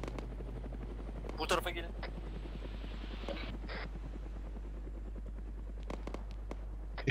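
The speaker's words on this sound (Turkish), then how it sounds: "Helikopter." Helicopter flying nearby in the military game Arma 3, a steady rotor drone under scattered gunfire-like bursts, with people talking over it throughout.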